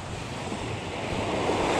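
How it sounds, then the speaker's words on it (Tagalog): Strong ocean waves surge and crash against rocks along a rocky fishing shore, a loud, continuous roar with heavy wind buffeting the microphone. "Malalakas ang alon."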